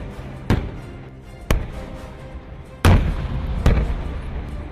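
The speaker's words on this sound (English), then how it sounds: "pinned down by the simulated artillery barrage" Simulated artillery barrage during an army training exercise: four sharp, loud booms spaced a second or so apart, each trailing into a rumbling decay over a low background.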